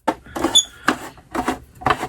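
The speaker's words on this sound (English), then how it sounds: "it is the vintage Kenner trash compactor piece" Vintage Kenner Death Star playset trash compactor toy piece being worked by hand, a series of four or five close plastic rasping and squeaking strokes in a steady back-and-forth rhythm, no talk.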